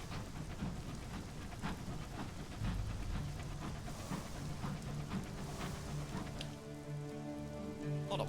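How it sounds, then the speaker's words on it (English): Steady rain patters outside, mixed with rain from the video game Final Fantasy 14, forming a dense, even hiss with occasional louder drops; a tonal game sound rises near the end. "There's a raining noise in-game and a raining noise outside."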